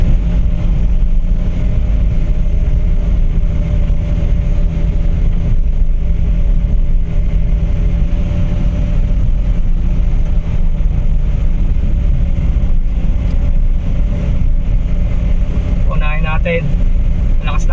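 A Suzuki Every Wagon DA64W van engine hums steadily and loudly throughout at 30 to 40 km/h on a steep climb, with constant low rumble and road noise, plus a brief higher squeak near the end.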